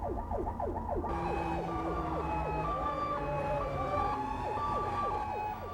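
A rescue vehicle's siren wails in a rapid repeating sweep through traffic, loud and continuous, with a second siren tone joining over the road noise.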